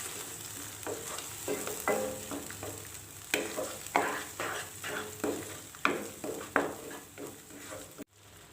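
Masala sizzling in oil in a pan for mushroom gravy, with a steady fry under repeated scraping strokes of a spoon stirring at an uneven rhythm, close and moderately loud, ending with a brief clatter.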